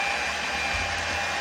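Electric hand mixer beating cake batter made from boxed cake mix and eggs for a lemon pound cake, a steady close whirring drone holding throughout with no talking.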